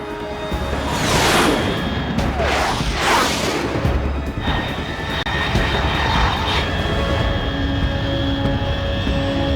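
A jet aircraft roars past in the Metal Gear Solid 3 video game, with loud rushing whooshes sweeping by twice early on, then a sustained high engine whine lingering, no talking.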